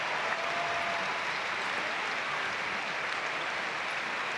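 A crowd at a EuroBasket basketball game between Spain and Romania applauds steadily, with dense, continuous clapping that fills the arena without breaks.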